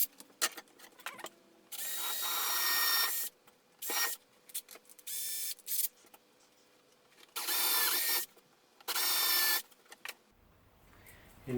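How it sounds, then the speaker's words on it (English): A power drill with a 2mm twist bit whirs into pine in several short bursts, drilling a pilot hole, the whining motor starting and stopping with quiet gaps and small handling noises between. "I'm going to use a 2mm twist bit now just to drill a pilot hole"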